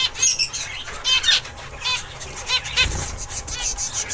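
Zebra finch parents flit in and out to feed nestlings, with bursts of wing flutter and high chirps and squeaks coming in quick irregular clusters, close by.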